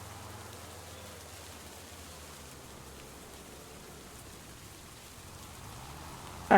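Steady rain in Farming Simulator 25, a soft continuous hiss that stays even and fairly faint throughout, with no voices and a brief sharp click at the very end.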